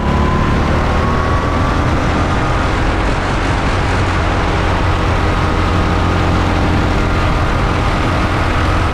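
Racing go-karts in a ten-hour endurance race roar continuously at close range, a loud, dense engine drone with a thin whine sliding up in pitch as a kart powers up a hill.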